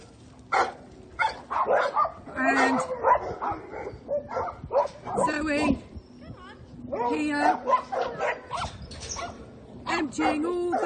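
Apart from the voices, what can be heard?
dogs barking at a dog rescue farm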